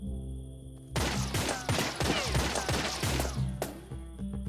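Bursts of rapid gunfire in the video game 3 Minutes to Midnight crackle loudly and close over a steady background game score, lasting a few seconds before the shots stop.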